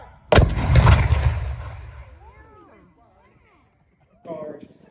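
A historic cannon fires a charge outdoors with a single huge close boom that rolls and echoes for about two seconds, followed by a quieter tail and a burst of talk at the end.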